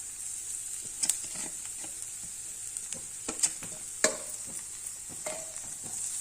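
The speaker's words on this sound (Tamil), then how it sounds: "அதை இப்போ நம்ம கேரட்டு துருவலை இதில் சேர்த்துடலாம்." Grated carrot tossed into a hot pan for carrot rice, a continuous sizzle under scattered scraping and clinking stir strokes, moderately close and without talk.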